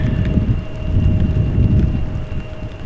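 Heavy rain falls steadily at Amsterdam Schiphol Airport, a dense, loud wash of drumming water with a faint steady tone behind it and no voices.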